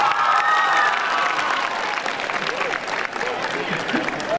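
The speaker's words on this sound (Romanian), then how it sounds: "La auzirea numelor noilor diriginți, elevii au aplaudat și s-au bucurat frenetic." High-school students applaud and cheer excitedly as their new class teachers are announced at a school opening ceremony, a dense, lively crowd clapping with voices mixed in throughout.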